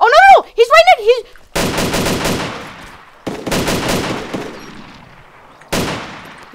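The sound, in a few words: gunfire in ARMA II DayZero mod video game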